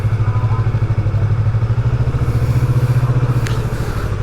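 A motorcycle ridden on a shopping trip, its engine giving a loud, steady, pulsing drone close by throughout, with a brief higher whine near the end.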